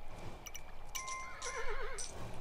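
A horse in the video game Kingdom whinnies with a wavering, trembling call over a steady electronic background, short and fairly clear.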